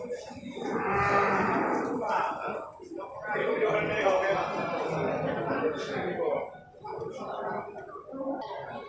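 Bali cattle at the Gerugok livestock market low in long, drawn-out moos, several calls overlapping closely amid the bustle of the market.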